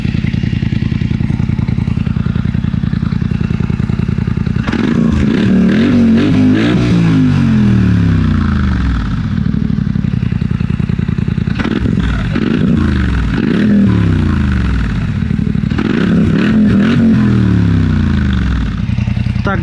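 A Polaris Sportsman XP 1000 ATV on its original stock exhaust revs repeatedly, the engine rising and falling in several surges over a steady idle, fairly quiet and close.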